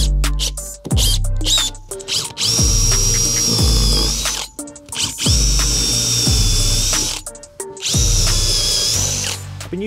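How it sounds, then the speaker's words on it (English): A power drill with Bosch multi-construction bits whines through three long bursts, boring holes in wood for threaded inserts, each spinning up and boring steadily before stopping briefly, loud and close. "Then I'm going to get drilled for some threaded inserts."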